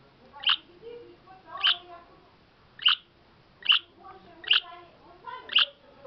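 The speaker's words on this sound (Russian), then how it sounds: "Птичка." A pet budgerigar gives a series of six sharp, high chirping squawks at a steady rhythm, close by and fairly loud, with faint room noise between calls.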